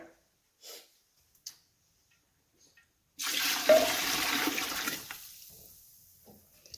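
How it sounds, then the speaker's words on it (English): After a few faint knocks, water gushes steadily into a cooking pot for about two seconds, then tapers off into quieter trickling. "So now I'm going to add some more water."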